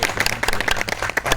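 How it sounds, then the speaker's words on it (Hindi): An audience at a Vishwa Hindu Mahasangh gathering at a temple in Meerut claps in welcome, a dense burst of many hands clapping loudly and close, with no voices over it. "आप लोगों की सभी सहमति से जोरदार ताली स्वागत हो जाए"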